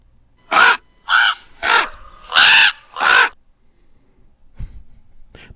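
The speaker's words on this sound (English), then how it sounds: "That was probably a little bit too loud for you. Those ravens." Ravens give five loud, harsh caws in a spaced, fairly even rhythm, close by and clear, followed by near silence with a faint low thump.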